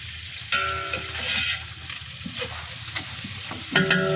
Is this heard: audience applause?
no